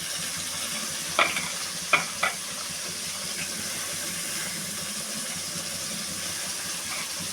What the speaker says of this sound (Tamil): பழமான தக்காளி எடுத்து இப்படி புளிஞ்சு விட்டுருவோம். நல்லா வதங்கட்டும்